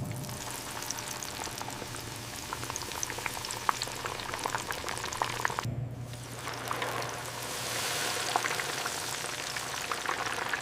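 Dense, steady bubbling and crackling of hot oil as fish sticks deep fry in a factory, continuing with a brief pause partway through.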